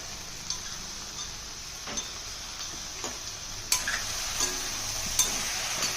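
Chopped tomatoes are stirred into an okra stew in a pan, a faint steady sizzle with light scraping and occasional utensil clicks against the pan.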